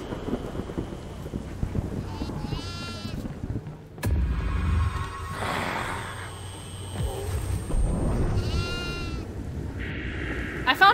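Goat bleating in the horror game Devour, several wavering cries spaced apart over a rumbling, stormy background with thunder-like noise and a voice speaking between them.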